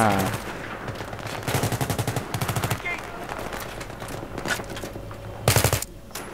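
Rapid automatic gunfire from the video game Battlefield 3 comes in loud repeated bursts of fast shots with short pauses between them, while a player talks excitedly over the action.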